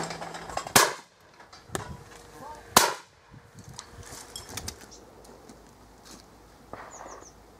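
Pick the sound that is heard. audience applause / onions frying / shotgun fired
shotgun fired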